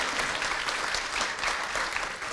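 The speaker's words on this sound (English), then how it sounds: "Can we have a big round of applause for Paul" An audience at a business conference panel claps in a sustained, even round of applause that stays dense and steady throughout, heard at moderate volume with no distinct voices.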